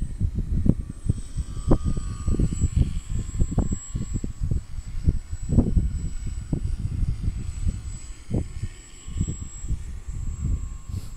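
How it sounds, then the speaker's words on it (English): A small Hitec powered RC glider drones overhead outdoors, its thin high motor whine steady at a distance over gusty, buffeting wind noise. "But it's a fun little glider."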